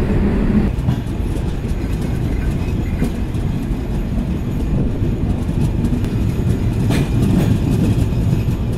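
The Kapotaksha Express intercity train pulls out of Ishwardi Junction railway station, a loud, steady rumble of carriages with rhythmic wheel clatter and occasional sharp clanks, heard close with no voices.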